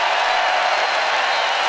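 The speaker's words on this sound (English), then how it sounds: "the ovation from the crowd?" Steady, dense applause fills a basketball arena during a Stanford home game as the crowd gives an ovation, loud and unbroken with no distinct voices.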